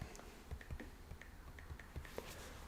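Soft, irregular taps on an iPad's on-screen keyboard, quiet and close, each tap a faint click against a low background hum.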